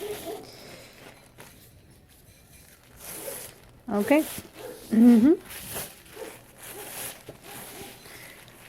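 Two plies of a paper napkin are peeled apart in two short, raspy ripping bursts, with quiet handling sounds and a brief spoken word nearby.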